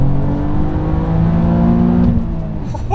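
A Toyota GR Yaris pulls hard in second gear at full throttle, its engine note rising steadily and loudly from inside the cabin before easing off near the end.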